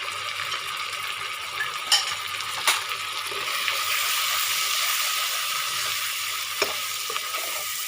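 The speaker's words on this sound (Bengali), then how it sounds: "মশলা আমার কষে দিয়েছে" Ground spice masala of cumin, coriander, chilli and turmeric sizzles steadily in a pan as it is stirred, with a few sharp clinks of a spoon against the pan and no talk.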